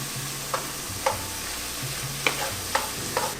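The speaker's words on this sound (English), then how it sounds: "I'm putting the lentils in here to, like, you know, toast them, get them going" Lentils and baby Bella mushrooms toasting in a pan give a steady close sizzle, broken by a few light scraping stirs spaced roughly half a second to a second apart.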